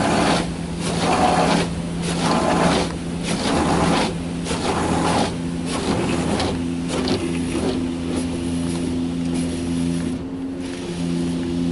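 Drop-down dryer at a European-style car wash blowing steadily with a loud, continuous roar and rhythmic pulsing surges, no voices over it.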